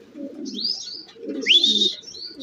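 Pigeons near a loft as racing birds arrive from a 120 km training toss: soft cooing and chirping calls over a low murmur, with a rising whistle-like call in the middle, close and moderately loud.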